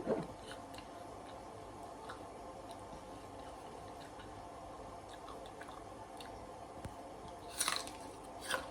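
Someone bites into and chews crisp apple, producing soft, faint crunching and wet squishy chewing through a quiet room, with a couple of sharper crunches near the end.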